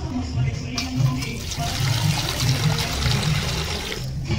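Water pours steadily into a pot of sugar to make syrup for gram-flour laddu, a continuous close splashing and trickling stream with no speech over it.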